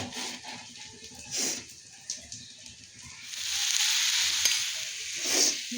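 A ground onion-tomato paste drops into a pan of fried onion and sizzles, the frying swelling louder partway through and holding steady, with short stirring scrapes and no voices.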